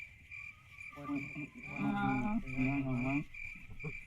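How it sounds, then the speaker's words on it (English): Crickets chirp loudly at night in a continuous high, pulsing trill, with someone talking over part of it. "Them crickets, man, are they loud."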